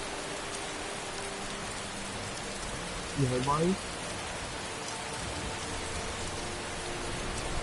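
Continuous rainfall in Skyrim, an even, moderate hiss of drops, with a brief spoken question from a person partway through.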